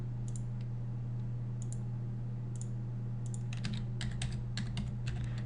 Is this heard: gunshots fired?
no